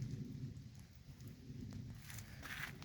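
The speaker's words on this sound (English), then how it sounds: "as soon as this rain stops" Steady rain falls on an outdoor vegetable garden in mid October, a constant soft hiss with scattered patters of drops on leaves and vines, with no voices over it.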